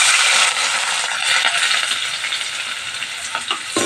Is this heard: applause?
no